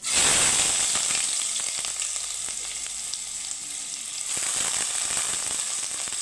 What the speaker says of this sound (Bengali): তেলটা গরম হয়ে গেছে এখন আমি দিয়ে দিব কুচিয়ে রাখা পেঁয়াজ